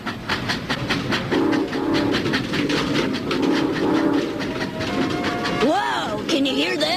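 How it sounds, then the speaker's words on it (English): A train rolls along a railroad track in a cartoon, its wheels keeping up a rhythmic clickety-clack with a whistle rising near the end, under voices and music. "I feel the rhythm of the clickety-clack. The wheels are rolling down the railroad track"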